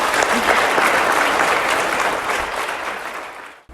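Steady applause from an audience for award winners at a school presentation day at Broken Hill North Public School, a sustained clapping that gradually fades out.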